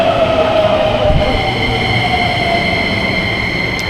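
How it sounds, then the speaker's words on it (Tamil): A Haneda Airport Express train in Japan runs loud and close, with a steady rolling rumble and sustained high tonal whine of the motors, wheels and rails humming throughout. "வந்துருச்சுங்க அட்டகாசமான ஜப்பானோட முதல் ட்ரெயின்"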